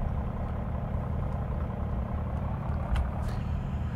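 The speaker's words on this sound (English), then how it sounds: "let the engine's revs build up to 60 plus RPM" A diesel locomotive engine in the Train Sim Classic video game idles with a low, steady throb that builds gently in revs, heard close up and on its own.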